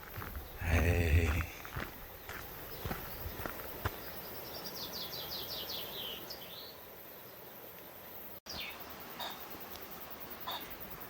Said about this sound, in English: there's some sort of random ass bird call. I wonder if it's a peahen or a pheasant.